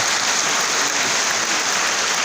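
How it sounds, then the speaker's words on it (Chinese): A large crowd claps at a thanksgiving gathering in Taichung for the 30th anniversary of the I-Kuan Tao General Association, a thick, continuous wash of applause at even loudness with no pauses. "也给自己热烈的掌声"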